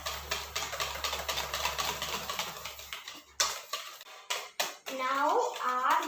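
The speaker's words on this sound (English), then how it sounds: "Now we're going to whisk in our vanilla extract to our batter." A whisk rattles rapidly against a bowl as vanilla extract is beaten into cupcake batter, giving a steady close clatter of metal on the dish that breaks off into a few separate knocks near the end.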